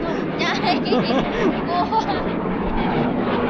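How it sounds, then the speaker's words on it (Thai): An airplane passes overhead at a glamping tent site, its broad engine roar steady and fairly loud throughout, with people's voices chattering underneath. "เครื่องบินเครื่องบินเครื่องบินเครื่องบินเดี๋ยวดูนะ"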